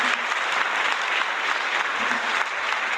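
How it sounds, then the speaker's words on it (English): A recorded applause track played at an award ceremony: steady, dense applause from a crowd, continuous hand clapping at an even level throughout. "let me get our applause track ready here"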